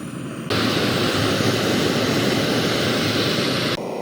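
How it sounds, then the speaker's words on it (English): A Jetboil camping stove burning to boil water, a loud, steady roaring hiss that switches on abruptly and cuts off near the end, close to the microphone with no talking. "Now just waiting for the jet boil to get orange"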